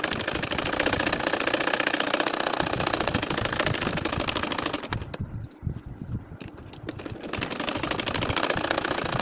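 A sewing machine stitches a nakshi kantha quilt with a loud, fast, steady mechanical chatter that runs almost throughout, dipping briefly in the middle before picking up again.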